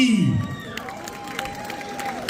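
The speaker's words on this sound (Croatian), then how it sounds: "Molim vas jedan veliki aplauz za našu prvu grupu Pupoljci" Audience at a folklore society's donor evening cheers and applauds a children's folk dance group, a loud crowd burst that carries on steadily under an announcer's voice.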